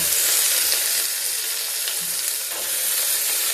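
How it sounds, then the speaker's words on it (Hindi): Eggplant goes into potatoes already frying in a pan for an aloo baingan sabzi, and a loud, dense, continuous sizzle carries through with small crackles, close and with no speech. "और अब हम डाल देंगे साथ में ही बैंगन।"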